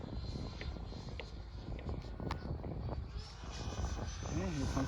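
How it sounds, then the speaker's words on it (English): Remote control Stinger 90 jet making a high-speed pass, a continuous turbine roar that swells toward the end, with people talking over it outdoors. "every time he does a high-speed pass in the Stinger 90"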